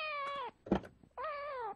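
A cat lets out two drawn-out, whiny meows, close and clear, separated by a short thump.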